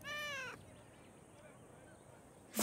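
A cartoon cat stuck up high gives a single plaintive meow at the start, clear and fairly close, followed by quiet background.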